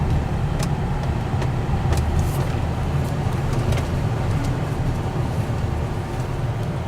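A 1997 Lincoln car on the move, with a steady low engine and road rumble and broadband tire noise that holds constant throughout, close and fairly loud.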